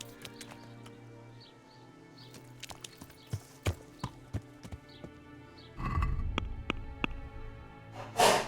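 A horse in the video game Kingdom Come: Deliverance trotting closer after being called, crisp, spaced clip-clops of hooves growing more prominent, with snorts and a brief whinny near the end.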